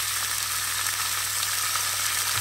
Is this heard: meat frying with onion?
yes